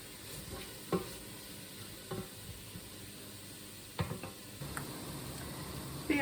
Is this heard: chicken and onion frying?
yes